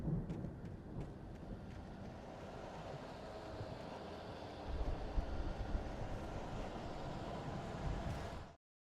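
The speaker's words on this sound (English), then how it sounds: "The storm raged on" A thunderstorm in the Alan Wake video game: steady rain hiss and deep rumbling thunder fill the scene continuously and fairly loud, swelling in the low end midway before cutting off abruptly.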